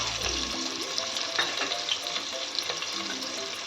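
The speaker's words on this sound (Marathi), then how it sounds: "आता हे संपूर्ण चांगलं परतवून घेऊया" Onion, green chilli and cumin sauté in oil inside a pressure cooker for egg biryani, giving a steady, close, continuous sizzle with faint stirring clinks and no talk.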